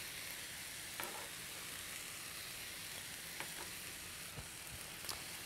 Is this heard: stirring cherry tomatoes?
yes